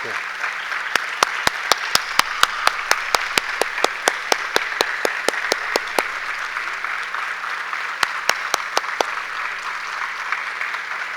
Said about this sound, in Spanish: Aplausos una vez más para don Efraín Castillo, Premio Nacional de Literatura 2025.